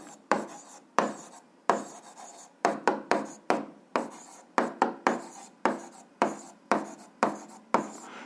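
Handwriting on paper while working an eighth-grade algebra exercise: repeated short strokes and scratchy pen bursts in a steady rhythm, close and fairly clear, with no voices.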